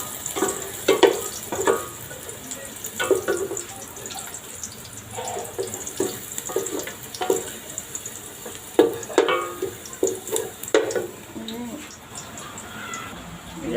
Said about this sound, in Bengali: এখন আমাদের পেঁয়াজটা ভেজে নেব বাদামি রং পর্যন্ত